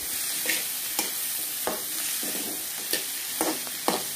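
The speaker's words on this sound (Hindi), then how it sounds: "लगातार चलाते हुए भूनना है इसको।" Chopped onion and capsicum frying in a pan for pav bhaji, a steady bright sizzle broken by sharp scrapes and clacks of a spoon as the mix is stirred, close up with no voices.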